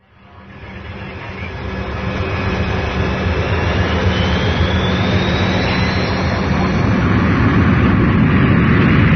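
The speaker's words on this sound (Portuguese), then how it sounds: "vamos embarcar no nosso avião e relaxar, porque o voo até a China pode ser demorado" Jet airliner engine roar building steadily from quiet to a loud, constant broadband rumble with a faint rising whine, heard from inside the plane on a long flight to China.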